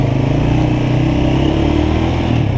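Motorcycle engine running steadily up close, a loud continuous mid-pitched drone with a constant rumble and no talking.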